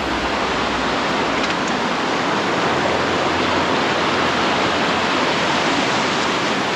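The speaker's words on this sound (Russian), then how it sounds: "тут же появился еще один каскадный водопадик" A small cascading waterfall in the Zambatsay gorge, a tributary of the Koksu in Uzbekistan, roars close by as a dense, steady wash of rushing water filling the whole clip, with no voices.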